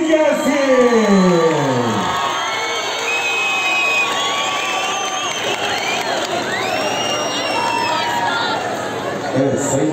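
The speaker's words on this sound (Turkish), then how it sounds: "Alkışlar Sorfest'in mimarı için gelsin." A crowd cheers and whoops at an outdoor summer festival, with excited shouting and chatter spread across a busy, lively scene; steady and loud throughout.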